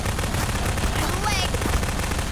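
Rapid automatic gunfire from Half-Life 2 co-op play, a dense continuous burst of loud shots filling the whole moment.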